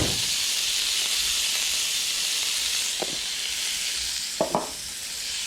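Steak for Philly cheesesteaks fries on a Blackstone griddle with a steady loud hiss of sizzling, broken near the end by a few brief scrapes of a spatula, close and without talking.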